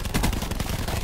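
Rapid gunfire from the shooter video game Call of Duty Black Ops 4 Blackout, aimed at zombies, with dense overlapping shots that continue steadily and loudly through the whole moment.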